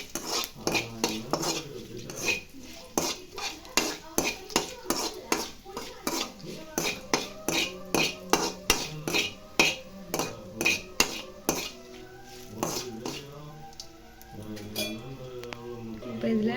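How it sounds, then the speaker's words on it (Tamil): Spoon stirring garlic and red chillies in a pan while making spiced puffed rice, steady repeated scraping and clinking strokes close up, with a faint sizzle underneath and occasional voice. "பூண்டு சேர்த்துக்கிட்டு நல்லா கலந்து விட்டுக்குங்க"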